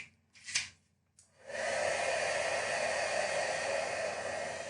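A heat embossing tool blasts steadily for several seconds over a vellum magnolia flower, after a few brief taps and a short pause at the start.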